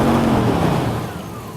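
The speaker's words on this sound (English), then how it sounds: "You can see if I rev the engine" A car engine revving during an automotive diagnostic test with meter test leads connected, a short, loud, full-bodied engine roar that holds steady and then eases off slightly.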